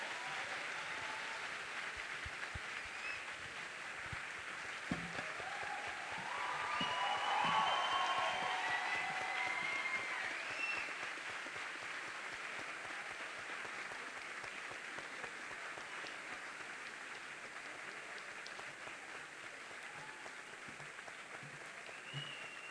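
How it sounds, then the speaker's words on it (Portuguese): Sustained audience applause at a talk with the architect Paulo Mendes da Rocha, a dense even wash of many hands clapping for over twenty seconds, swelling slightly early on and staying steady without speech. "uma salva de palmas para o nosso arquiteto Vitória."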